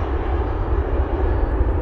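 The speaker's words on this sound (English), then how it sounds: "On the other side, Southwest 588 departing for Nashville." A Southwest Airlines jet departing Cleveland Hopkins airport gives a steady, loud engine roar, broadband and continuous, heard alone without voices.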